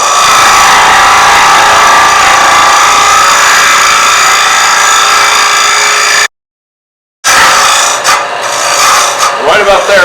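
A hollowing tool cuts into a wood vessel spinning on a lathe, giving a steady, close rasping scrape that cuts out briefly partway through and then resumes with rougher scratching.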